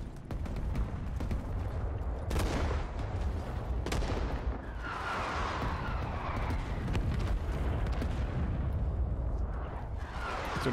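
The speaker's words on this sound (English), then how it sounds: "sure there's enemy artillery coming down now" Enemy artillery shells fall in a Rising Storm 2 Winter War match, a steady roar of heavy booms and rumbling impacts with scattered gunfire, dense and continuous throughout.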